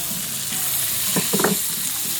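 Chopped onion sautéing in a pan with already browned garlic for chicken sopas, a steady close sizzle with a few brief stirring scrapes and clatters near the end.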